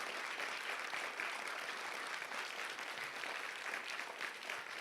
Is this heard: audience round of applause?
yes